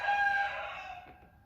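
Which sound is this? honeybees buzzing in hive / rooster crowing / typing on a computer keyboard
rooster crowing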